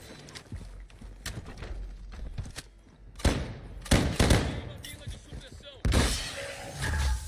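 Gunfire in a shooter video game: loud, sharp bursts of shots and impact crashes, clustered in uneven volleys with gaps between, heard near and under ongoing game noise with a voice talking at times.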